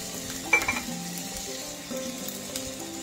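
Sliced cabbage sizzles in a pan of fried rice with mixed vegetables, a moderate continuous frying hiss with a few stirring clinks and scrapes over a faint musical background.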